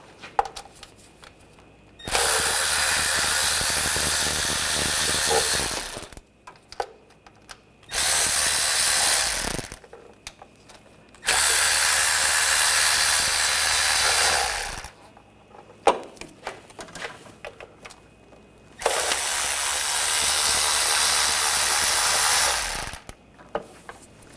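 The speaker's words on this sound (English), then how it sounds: "Take these bolts out. Use a 10mm socket." Bolts come off the timing cover of a Honda Pilot V6 with a 10mm socket on a power tool, heard as four loud whirring bursts of several seconds each, separated by quieter pauses with small clicks and clinks.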